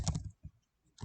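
Light keys tapped on a computer keyboard while a phone number is entered, a quick cluster of clicks, then a pause and a few more isolated presses, close and quiet.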